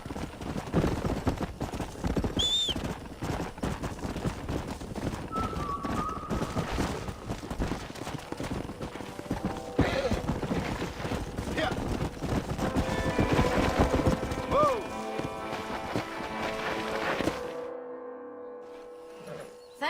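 Horses trot in Red Dead Redemption, rapid hooves clip-clopping through most of the stretch, fairly loud and steady, with scattered clatter and a brief tonal call, before cutting to near silence.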